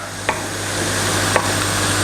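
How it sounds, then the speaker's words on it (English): A second packet of beef mince frying in a pan for a beef and chorizo chilli, a continuous close sizzle with two brief clinks of a utensil and no talk. "I've cooked off one packet of meat and I'm just cooking off the other packet now"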